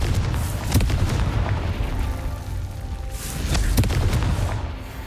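Confringo fire spell blasting in Hogwarts Legacy, a loud, close, rumbling boom that swells and rolls on for several seconds with a second burst near the end, with no talking.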